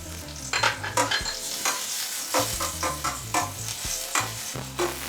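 Chopped ginger and garlic frying in a pan for a Kerala-style fish curry: a crackling sizzle with repeated close scraping strokes of a spoon, over a faint low tonal hum in the background.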